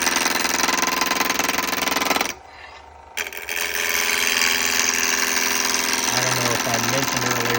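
A wood lathe spins a walnut spindle at just under 1300 RPM while a spindle roughing gouge shapes it. The steady machine drone runs loud almost throughout, drops away briefly near the middle, then returns.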